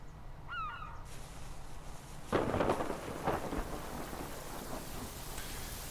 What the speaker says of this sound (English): it's always freaking raining in this place